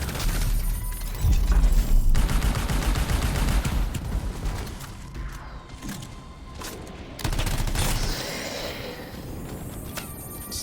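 Gunfire in the sci-fi video game Anthem, sniper shots mixed with dense bursts of fire and booms, loud and continuous with rattling volleys and heavy low thumps.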